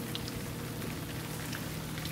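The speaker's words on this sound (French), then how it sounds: "il pleut." Steady rain falling on a spring vegetable garden with raised beds, a dense even patter close by with a few louder drops, no voices.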